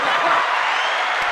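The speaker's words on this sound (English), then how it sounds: "That's my applause." A brief, steady wash of clapping plays as applause on a magic show, loud and unbroken for its short length.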